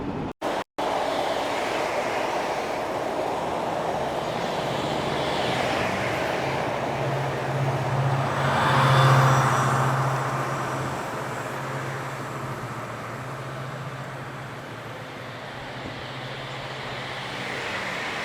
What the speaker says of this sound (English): seeing another charter train run through the Stockport Stadium Bridge line